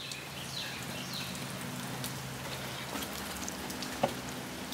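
Steady outdoor rain patters in a soft, even hiss while fence work goes on in the wet, with a low hum underneath and a single faint tap near the end; no talking.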